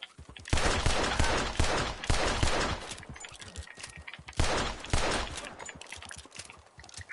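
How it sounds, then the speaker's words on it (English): Gunfire in Red Dead Online, heard as dense bursts of rapid shots in two loud volleys with scattered cracks and echoes between them. "Shoot everyone until I get the right one."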